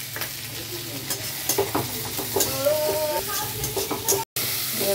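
Food fries in a pan with a busy close sizzle and frequent clattering stirs, a faint voice murmuring beneath, cut briefly by a short dropout near the end.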